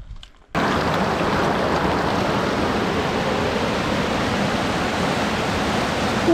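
A rushing mountain stream, the Ruisseau de la Pisse at 2165 metres in the Queyras Alps, pours out as a loud, steady broadband roar that cuts in after a brief quiet start and holds unchanged to the end.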